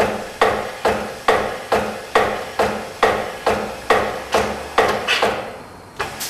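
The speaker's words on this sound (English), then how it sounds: "Disconnect the suction hose and cycle the pump with no sealant being sucked in." A tire sealant pump from a dual wheel kit cycles with its suction hose disconnected and no sealant drawn in, giving a steady run of about thirteen sharp, evenly spaced clacks, close and loud with no voices.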